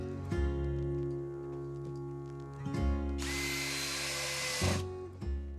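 A power drill drives screws into plasterboard, with three whirring bursts, each rising as the screw seats, the middle one joined by a loud rasping grind as the screw bites in, close and alone without talk.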